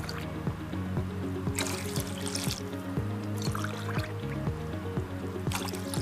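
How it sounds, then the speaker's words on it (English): Steady water pouring and trickling into a pot, continuous and close, with gurgling splashes throughout and no voices. "In this I will put 3 glasses of water."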